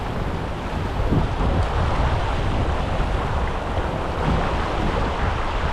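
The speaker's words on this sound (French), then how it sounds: "Non mais c'est le vent là" Steady outdoor wind blowing at a riverside while trout fishing on the Salat, a broad continuous rush with buffeting against the microphone and no talk.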